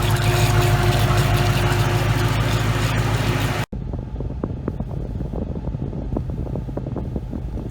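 A 2018 Mustang's engine idles on continuously, low and even, with a brief dropout partway through before the drone resumes with faint ticking.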